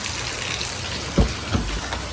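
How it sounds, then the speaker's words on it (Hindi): Heavy rain pours down steadily outdoors beside a parked car, a dense continuous hiss with a couple of brief louder splashes and no talking. "अभी बगल में देखो पानी बहुत तेज बरस रहा है"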